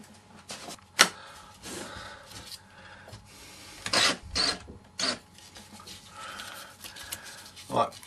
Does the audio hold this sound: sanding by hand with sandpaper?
yes